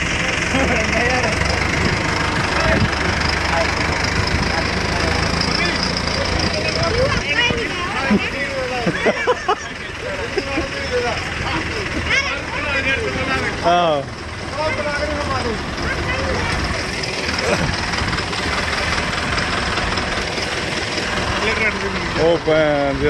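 Arjun Novo 605 DI-I 4WD tractor with its diesel engine running at a steady idle, close and continuous, while people talk in the background over the engine throughout.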